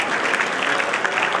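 A crowd in a hall at Maharaja Aggarsain Bhawan gives a short burst of even, continuous applause, with the clapping filling the room without pause.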